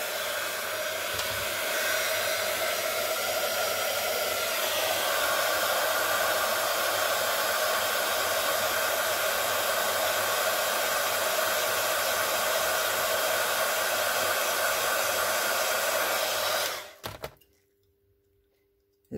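A hair dryer blows steadily and loudly on freshly applied textured paint in a craft project. It keeps up a continuous whooshing roar for about seventeen seconds, then cuts off abruptly into near silence.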